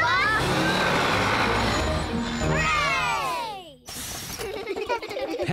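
An animated cartoon bus labors up a steep mountain road, its engine droning loud and close before a sweeping downward whine and a brief cut-off, then rougher clattering sounds.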